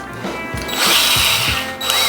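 A power drill whirs at close range, its motor pitch rising and dipping as the bit grinds into a metal sign in short bursts.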